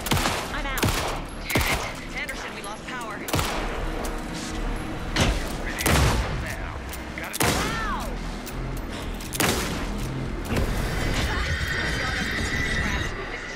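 Gunfire in the video game Alan Wake 2, several loud cracking shots and bursts scattered among game effects, layered music and ambient noise.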